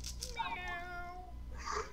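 A cat meows close by in one drawn-out, rising and falling call, followed by a shorter second meow, with a faint background hum.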